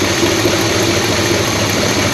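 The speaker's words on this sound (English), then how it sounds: "A couple of little exhaust ticks in it" An old engine that had sat unused for 17 years idles in a steady, loud, continuous rumble with a dense, broadband drone, any small exhaust ticks buried in the even running, with no talk.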